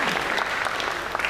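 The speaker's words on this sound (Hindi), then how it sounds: "तालियां भाई, तालियां" A talk show studio audience gives a brief, loud round of clapping, dense and continuous across the short moment.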